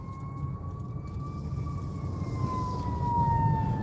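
Wailing sirens from fire trucks and ambulances, a steady rising and falling tone over road rumble, fairly close and continuous throughout.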